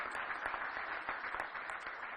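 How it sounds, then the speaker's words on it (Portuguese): Crowd applauding a deputy at a Brazilian architecture award ceremony, with dense, continuous clapping heard from a distance and held steady throughout. "queria pedir aí uma salva de palmas para o deputado Zezéu"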